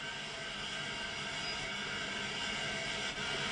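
Gas supply rushes through a diving chamber simulator as the main lock is opened, a steady faint hiss and low rumble held evenly throughout, with no talk.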